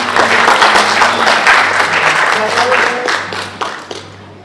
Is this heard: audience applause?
yes